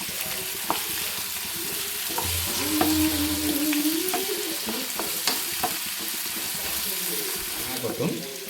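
Masala frying in a pan while being stirred, a steady sizzle with scraping spoon strokes throughout, fairly close, and a brief stretch of voice partway through.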